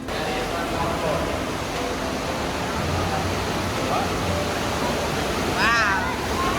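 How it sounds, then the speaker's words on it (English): An underground waterfall inside Lost River Cave makes a steady, dense rush of falling water that fills the whole clip at an even level, with a faint whistle-like chirp near the end. "That is our waterfall."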